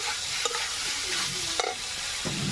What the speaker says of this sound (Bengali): ঢাকনাটা খুলে আমি দেখে নেব, একটু নাড়াচাড়া করে নেব।